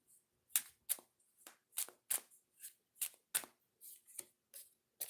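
Oracle cards being shuffled by hand, a dozen crisp riffling snaps and papery flicks at an uneven pace, close and fairly quiet with nothing else audible.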